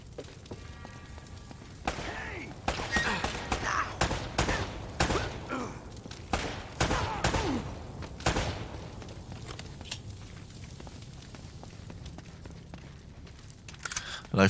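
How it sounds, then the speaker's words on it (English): Gunfire from the video game Uncharted: Drake's Fortune, a run of sharp shots and thuds in irregular bursts, moderately loud over game ambience, then fading to a quieter background with an occasional distant crack. "I hear gunfire."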